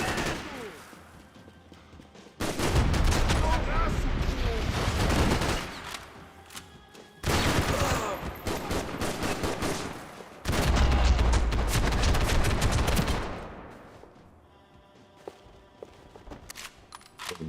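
Loud bursts of video game gunfire from Max Payne 3, with three long sustained volleys of rapid shots separated by quieter gaps, then fading to low background.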